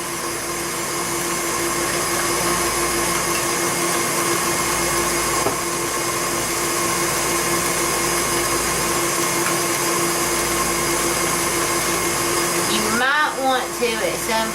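A blender churns cream into butter with a steady, loud motor whir that holds level for most of the time, then breaks into a few uneven bumps near the end.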